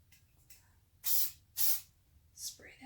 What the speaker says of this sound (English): Spray that hair.